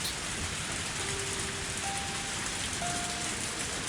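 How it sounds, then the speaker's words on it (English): Steady rain falls in the Higurashi video game, a constant even hiss of drops on surfaces with no talk over it. A few faint tonal hums sit in the background. "Water falling from the sky was a perfectly natural phenomenon, but rainy weather always made me feel depressed."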